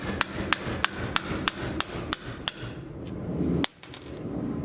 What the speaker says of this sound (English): just going to take another bolt, that one that I cut, and just beat it the rest of the way out